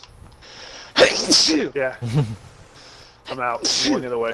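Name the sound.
sneeze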